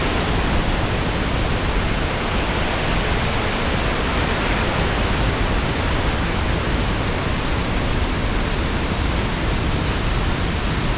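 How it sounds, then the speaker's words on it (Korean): Victoria Falls in Zimbabwe roars as a steady, loud, unbroken wash of falling water, constant from start to finish with no voices. "Oh, sound from the waterfall, right?"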